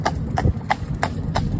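A horse's hooves clip-clop on cobbles in town traffic, with about five evenly spaced, crisp close strikes against a low background rumble.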